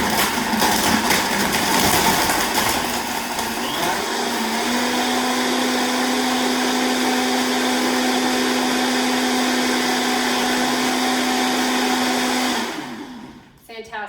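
A Vitamix blender blending ice and greens into a smoothie roars loudly and steadily for about twelve seconds, holding a strong motor whine, then winds down and stops.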